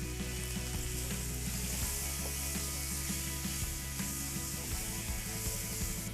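Aromatic vegetable garnish for a beef estouffade sweats in a pan, a soft steady sizzle broken by repeated scraping and clicking of a utensil as it is stirred, close and continuous with no voices.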